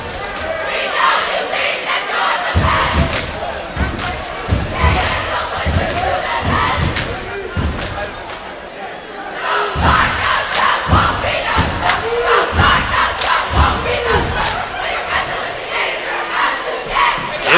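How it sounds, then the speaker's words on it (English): A packed gymnasium crowd roars through a boys' basketball playoff game, a loud, continuous wash of cheering and shouting with repeated sharp thuds of feet and bouncing balls cutting through it for the whole stretch. "The student section is packed. This entire gymnasium is packed. An excellent crowd on hand"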